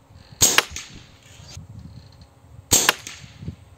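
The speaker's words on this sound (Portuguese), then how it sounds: "Primeiro disparo." Two sharp, close air-rifle shots firing slug pellets through a 600mm barrel ring out about two seconds apart, each a crisp crack followed by a brief metallic ring, over faint background noise.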